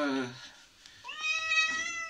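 A cat meows while being given a shampoo bath, a drawn-out plaintive cry at the start and another longer, rising meow a moment later, close by and fairly loud against a quiet room.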